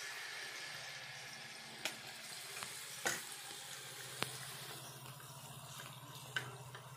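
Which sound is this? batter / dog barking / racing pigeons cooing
batter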